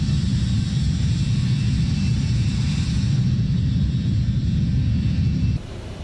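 An Embraer E-175 jet climbing out in Microsoft Flight Simulator 2024 gives a steady, loud broadband engine roar and rumble that holds level, then drops abruptly quieter near the end.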